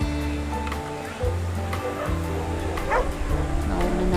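Dogs in Red Dead Redemption 2 barking and yipping in short repeated bursts near the player, over steady game background noise, with a voice talking at times.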